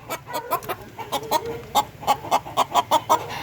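A native Darag rooster on a Filipino free-range chicken farm clucks in a rapid series of short, sharp calls that quicken toward the end, close by and loud, with no voices.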